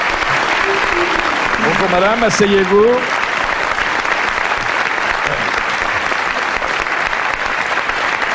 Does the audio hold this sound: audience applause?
yes